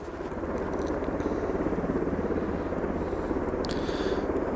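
Steady rhythmic thudding of a helicopter's rotors flying overhead near Aberdeen Airport, fairly distant and continuous, with a constant engine drone throughout.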